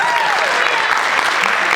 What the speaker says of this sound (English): give a warm, rousing round of applause to our candidates